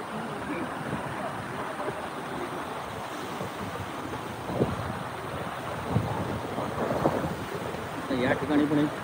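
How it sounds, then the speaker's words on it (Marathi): Water pours down the Sawatsada waterfall near Chiplun in a forested monsoon valley, a continuous broad rushing roar with wind buffeting the microphone and faint voices of visitors nearby. "तसा हा सगळा अनुभव आहे आणि तसा हा धबधबा आहे आपल्याला."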